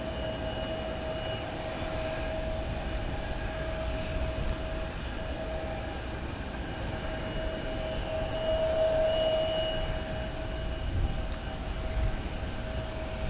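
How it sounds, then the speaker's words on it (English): An American Airlines Boeing 787-8 Dreamliner jet at DFW Airport at night gives a steady, distant engine drone with a sustained whining tone, holding fairly constant and swelling slightly near the end, with no voices. "Here is American Flight 13. It is 787-8 Dreamliner"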